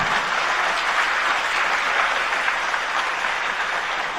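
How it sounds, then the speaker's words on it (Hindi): Steady clapping from an audience at a Jain religious discourse led by a monk, even and continuous for the whole stretch with no voices over it. "अच्छे से बजाओ तालियां"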